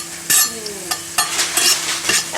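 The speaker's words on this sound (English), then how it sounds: "You can see it just starting to sizzle and it's getting that nice light brown colour." Garlic frying in olive oil crackles and sizzles close by, broken by several sharp scrapes and clicks as it is stirred around the pan.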